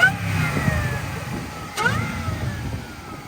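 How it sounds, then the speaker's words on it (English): A supercharged car engine revs up and falls back, then revs again, a throaty mechanical roar with a faint supercharger whine over it, heard nearby at a car meet. "We want to hear that supercharger."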